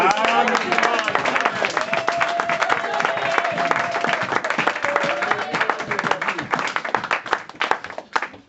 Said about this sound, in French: Acclamons pour Jésus.